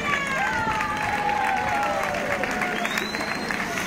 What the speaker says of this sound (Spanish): Subimos a podio y un aplauso